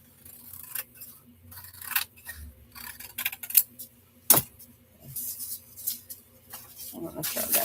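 Paper being trimmed with scissors while working on a journal, heard as a series of short, close snips and rustles with quiet pauses between cuts and some handling noise.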